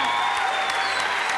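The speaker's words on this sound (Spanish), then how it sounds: "Solo voy a pedir al público que te aplauda de nuevo porque te lo mereces." A studio audience applauds at a talent show, Talento Argentino, with loud, steady clapping that fills the whole moment without a break.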